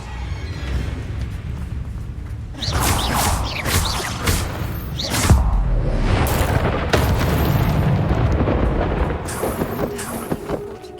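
A Confringo blasting spell in the video game Hogwarts Legacy goes off as a loud, booming explosion with crackling bursts and a rumbling tail, followed by sustained roaring blasts and debris noise.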